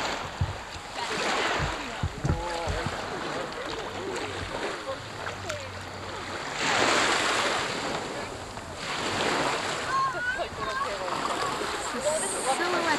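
Ocean waves wash onto the beach at Eastham in broad surging rushes, mixed with wind buffeting the microphone, while several people talk nearby over the surf.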